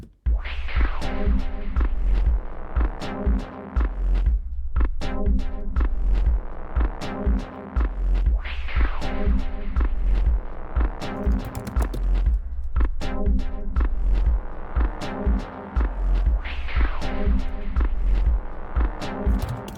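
Repeating dub techno synthesizer phrases ring out with long, washy reverb tails that blur each note into the next, cycling in a steady looping pattern.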